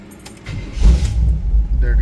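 A 1984 Chevy K5 Blazer, stripped of its transfer case and driveshaft, cranks with a jingle of keys, then its engine catches and settles into a loud, steady low rumble nearby.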